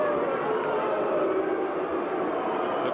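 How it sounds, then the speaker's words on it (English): A boxing arena crowd at a WBO light flyweight bout voices its disapproval in a steady, loud, diffuse roar of many voices, unbroken throughout. "The crowd with its disapproval"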